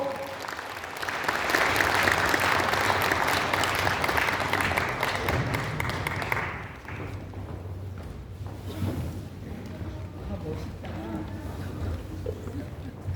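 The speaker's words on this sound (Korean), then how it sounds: "박수로 환영해 주십시오" Audience at a book launch event applauds to welcome a poet giving a congratulatory recitation, with steady clapping for about six seconds that then drops away, leaving quieter room sound and talking.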